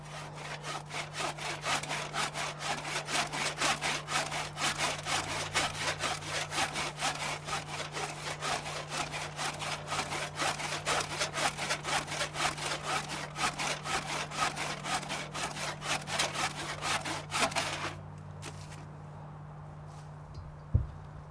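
Hand saw cutting through wood during hide tanning work, a steady rapid rhythm of rasping back-and-forth strokes for most of the clip, close and loud, then stopping abruptly to near quiet with one brief knock at the end.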